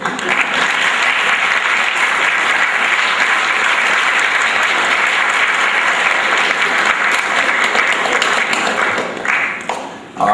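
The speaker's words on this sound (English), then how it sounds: "if we give her a big round of applause" A school sports awards audience breaks into a big round of applause, dense continuous clapping filling the room at full strength for about ten seconds before it begins to thin at the very end.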